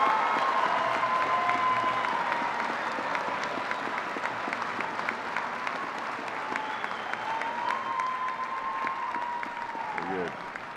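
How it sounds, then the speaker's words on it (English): Commencement audience gives graduates a sustained round of applause, a broad even wash of many hands clapping at moderate distance, with a faint tonal hum running beneath it and tapering near the end. "Will the members of the audience give one more round of applause"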